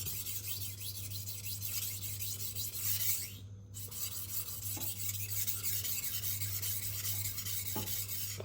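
A knife is drawn back and forth across a whetstone in steady, close rasping strokes, a gritty scraping rhythm that runs continuously with one brief pause partway through.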